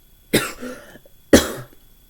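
A man coughs twice, about a second apart, each a sharp close burst trailing into a brief rasp, with quiet between them.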